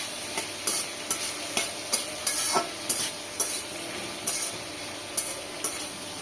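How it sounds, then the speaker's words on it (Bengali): Chopped onion and green chili sizzle in a pan while a spatula strikes and scrapes at a steady, roughly half-second beat, the stirring close and clear over a constant frying hiss, with no voices. "পেঁয়াজের কুচি দিয়ে দিচ্ছি, আর ঝালের জন্য একটু কাঁচামরিচ"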